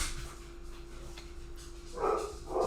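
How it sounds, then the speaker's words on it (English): Several dogs bark, a couple of short loud bursts near the end over a quiet background hum, with no one talking. "Y'all don't mind my dogs going nuts for a minute."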